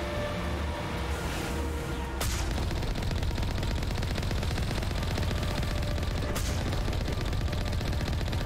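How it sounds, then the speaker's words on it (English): Rapid, continuous automatic weapon fire from the video game Mass Effect Legendary Edition pounds on without a break, loud and dense, with no voices over it. "I'll just keep firing like crazy."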